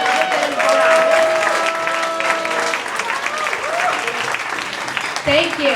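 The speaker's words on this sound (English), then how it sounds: "can we get a round of applause for how much phone banking you did in 4 hours?" A room full of people applauds a phone banking volunteer at a political campaign barnstorm event in a lounge, with steady clapping and overlapping voices and cheers throughout.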